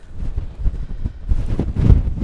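Strong gale wind buffeting a microphone on the Welsh mountain Moel Eilio, a continuous loud low rumble with gusting surges and no break throughout.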